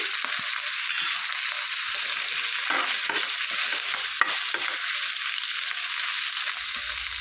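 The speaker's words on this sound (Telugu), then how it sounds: "ఇందులోనికి పువ్వు కూడా వేసేసుకొని వేయించుకోవాలి" Steady sizzling of drumstick leaves and flowers frying in a pan, with occasional stirring scrapes, close and continuous, no talking.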